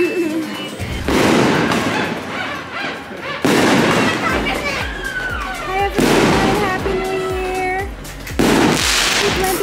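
New Year fireworks welcoming 2022 burst repeatedly, with loud crackling explosions and whistling rockets arriving in several waves a couple of seconds apart, while voices murmur in the background.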